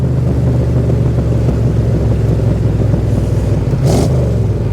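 A Dax-built AC Cobra 427 replica's engine drones loud and close as it drops through the gears, a steady throaty rumble with a brief blip near the end.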